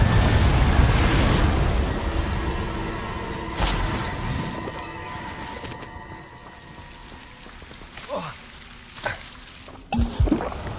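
Confringo and Glacius spell blasts fire in a Harry Potter video game: a loud opening burst decays into crackling, shattering impacts, with several sharp cracks and bursts spaced out toward the end.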